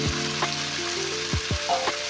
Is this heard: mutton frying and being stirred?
yes